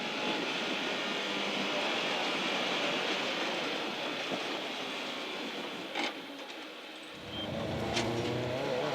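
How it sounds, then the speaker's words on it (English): A Lancia Integrale Evoluzione rally car drives a stage of the Targa Newfoundland rally, heard from inside the cabin as a steady engine drone and broad road roar. A short lift around the seventh second drops the low rumble before it swells again. "We're riding in the Lancia Integrale Evoluzione"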